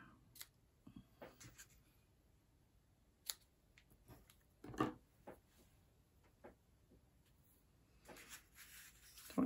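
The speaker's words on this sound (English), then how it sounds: "My ribbon scissors." Ribbon scissors snip ribbon during papercraft card-making, giving a few faint, sharp clicks and snips spread over quiet handling noise, with no talk.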